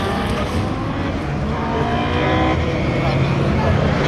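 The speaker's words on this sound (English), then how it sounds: "Audi just taken to the track" An Audi race car on a track during a shakedown run, its engine a steady, loud continuous roar throughout with no pauses, with speech from people faintly present alongside.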